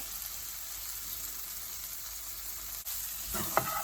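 Continuous hiss of chicken sambal sizzling in a hot pan, steady and close, with a brief clatter of stirring near the end.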